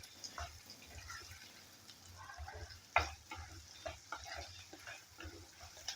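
Onions fry in a pan for a fish curry, a soft, steady sizzle with occasional stirring scrapes and small pops, quiet and close, with no voices.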